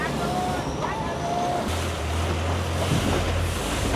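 A boat motor drones steadily on a river in Bangkok, with wind buffeting the microphone and a low engine hum throughout.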